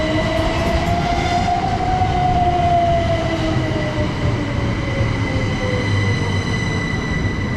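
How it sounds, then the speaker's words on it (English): A Southern Class 377 electric train pulls out of Cooden Beach station on the East Coastway Line, with a loud, steady rolling rumble under a rising then falling motor whine and high ringing tones, close by. "going on now is 377471, the 1350 Southern service to London Victoria"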